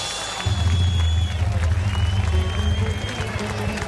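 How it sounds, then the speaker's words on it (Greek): Audience applause welcoming performers on stage at the Kataklysmos 2008 festival, a loud steady clapping crowd that swells in and holds, with a faint amplified voice underneath. "Warm applause, ladies and gentlemen, to welcome them on stage."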